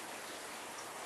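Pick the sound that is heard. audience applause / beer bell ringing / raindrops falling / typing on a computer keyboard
raindrops falling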